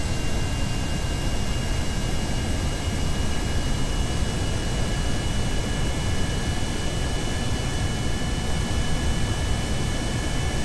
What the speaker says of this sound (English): These single-engine planes, they're very unreliable.